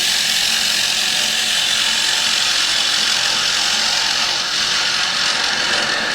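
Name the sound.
wood lathe spinning at 1300 rpm while turning a bowl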